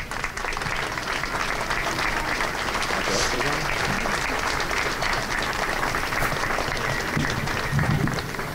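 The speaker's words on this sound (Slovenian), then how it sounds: "Lahko zaploskate še enkrat." An audience at a pro-life walk event claps steadily and densely for the whole stretch, a sustained, even round of applause with no break, crowd-wide and close.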